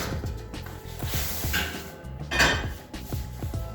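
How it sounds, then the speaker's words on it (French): Lid lifted off a cast iron cocotte holding baking sourdough bread, with metallic clanks and scraping knocks over a rhythmic mechanical ticking, one brighter clatter near the end. "Il faut désormais enlever le couvercle de la cocotte."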